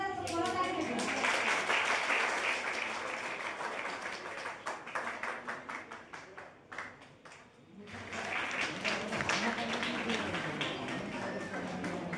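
An audience claps at a farewell felicitation ceremony. The dense, close applause thins briefly in the middle and then swells again, with a few voices faintly underneath.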